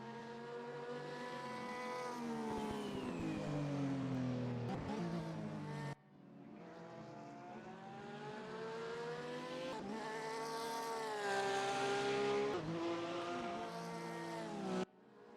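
Race cars circulating during a warm-up session of the ADAC Masters at Bathurst, engines droning loudly and continuously with rising and falling pitch as cars pass, a brief cut midway.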